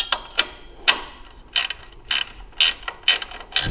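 Ratchet wrench cranking down carriage bolts on a belt sander motor mount, quick close clicking bursts in an uneven rhythm of about eight strokes, loud and alone with no voices.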